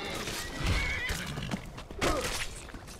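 A horse in the video game Skyrim whinnies loudly with a high, shaky neigh, then another neigh follows, over a busy layer of background noise.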